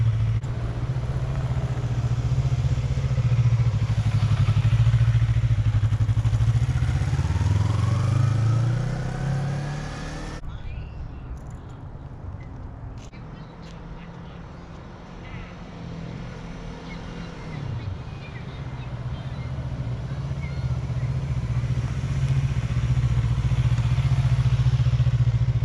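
A Yamaha R3 motorcycle engine runs loud and close with a steady idle hum. The pitch sweeps as the clutch is let out, then drops lower before revving back up to a strong, sustained drone.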